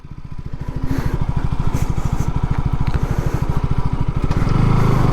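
A motorcycle engine revs hard and runs fast, a loud steady pulsing drone that builds and grows stronger toward the end, with no talk over it.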